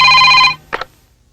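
A landline telephone rings once in a large house, a loud electronic bell tone cut short, followed by a brief click as the receiver is picked up.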